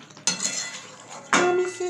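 Mutton with fried onions is slowly stirred and fried in a pot, with two distinct clanks of a metal spoon scraping against the pot over a soft background sizzle.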